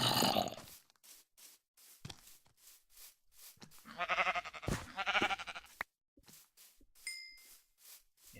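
A Minecraft sheep bleats in a couple of wavering, nasal calls near the middle, surrounded by short clicks and game sounds with gaps of silence and a chime near the end.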